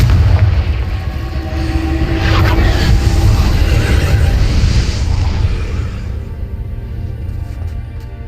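A rumbling blast from the Confringo fire spell in the Hogwarts Legacy video game booms loud and close, then slowly fades over several seconds.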